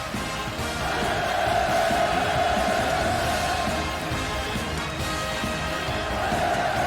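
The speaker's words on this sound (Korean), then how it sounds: "열화 같은 만세 환호성이 터져올라" Large crowd at a commemorative performance for the 73rd Victory anniversary roaring in sustained cheers and hurrahs, a dense continuous wall of voices that stays loud and steady throughout.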